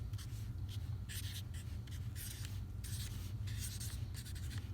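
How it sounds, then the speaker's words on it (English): Pen writing the date on an HVAC air filter, a series of quick scratchy strokes in short bursts with brief pauses, close and clear, no voices. "I write down"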